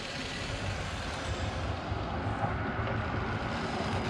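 A WLtoys RC truck converted to a Castle brushless motor accelerates with a steady, loud broadband whir and rumble, nearby and continuous, with no talking.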